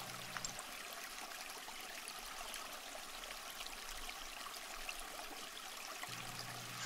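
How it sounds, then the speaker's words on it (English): Well water bubbles up into a patio pool at Viana Palace in Cordoba, Spain, making a steady, soft trickling wash that runs unbroken and fairly faint, with no voices. "the water here bubbles up from a well on the property"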